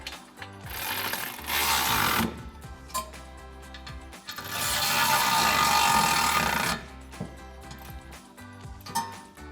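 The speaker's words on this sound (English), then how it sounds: "we're going to come in with our 16mm socket to tighten them down" Ratchet with a 16mm socket tightening bolts on a front bumper guard of a 2024-2026 Toyota Tacoma, two long bursts of rapid clicking close by, separated by quieter mechanical handling.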